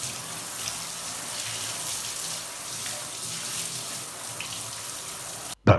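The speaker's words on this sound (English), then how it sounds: "Oh yeah, and some more water." A faucet pours a steady, even stream over a plastic Amstrad CPC 6128 computer case being rinsed. The water runs continuously for over five seconds, then stops suddenly with a short knock at the end.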